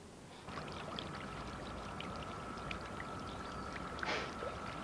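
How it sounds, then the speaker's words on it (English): Running water splashes steadily from a newly built garden waterfall, a continuous close pouring and trickling that starts after a brief quieter moment and holds evenly throughout, with no voices. "love the sound of running water"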